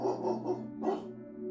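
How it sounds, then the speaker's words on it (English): A dog barks a few times in quick succession, then once more after a short pause, sounding faint and somewhat distant. "He hears faintly the sound of barking and echoes of people yelling in the distance."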